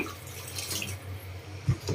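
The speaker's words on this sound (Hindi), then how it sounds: "अभी इसमें मैं पानी छोड़ूंगा, ज्यादा पानी नहीं" Water poured into a Konkani-style fish curry masala in a cooking pan gives a brief splashing, hissing rush with a dull thump near the end, heard alone without talk.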